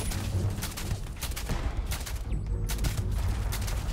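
Continuous gunfire in the space game Starfield, a dense barrage of overlapping shots and impacts filling the whole stretch, loud and unbroken.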